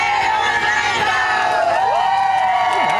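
Lively crowd at the Jeep Beach Coastal Cleanup 2025 morning event, cheering and whooping continuously at a steady, loud level, with shouted voices blending into a dense roar throughout.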